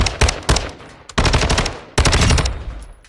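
Bursts of automatic gunfire in a shooting video game, three rapid loud volleys with short pauses between them, close and punchy, no talking.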